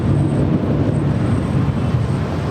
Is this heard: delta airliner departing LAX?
yes